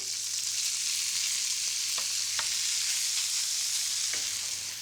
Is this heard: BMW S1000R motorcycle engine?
no